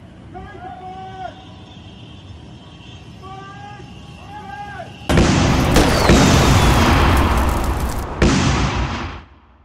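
Talking gives way to a sudden loud explosion that roars for a few seconds, then a second blast hits before the rumble cuts off.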